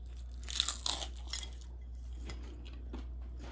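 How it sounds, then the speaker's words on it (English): Crisp crunching from chewing Parmesan-crusted potatoes, a few bursts close up in the first second and a half, then quieter fainter chews. "Can you hear the crunch?"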